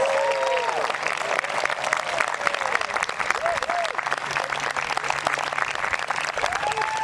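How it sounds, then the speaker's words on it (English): Steady round of applause from the audience at an 8th grade promotion ceremony, continuous and full for several seconds, with scattered voices and whoops mixed in. "Audience, let's give them a round of applause."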